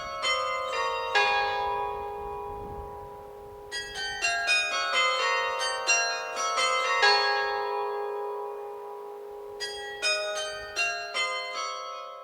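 Bells ring out at a school assembly in a series of loud, resonant strikes, each leaving a long ringing tail that overlaps the next, with short pauses between the groups of peals and no talking.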